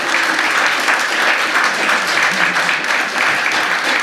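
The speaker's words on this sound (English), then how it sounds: "give another round of applause for our amazing panellists" An audience applauds panellists at a Saturday afternoon music discussion event in Manchester, a steady, dense clapping that fills the room for about four seconds without a break.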